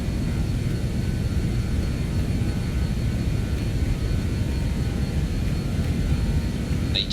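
Roar of BAe 146 jet engines at takeoff power in Microsoft Flight Simulator, a steady broadband rumble with a constant hiss, sustained and unchanging throughout.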